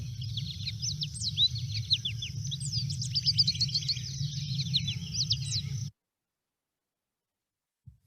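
American goldfinch song: a rapid, high, twittering series of sweet warbles and chirps, clear and fairly close, over a low steady background hum that cuts off abruptly into silence.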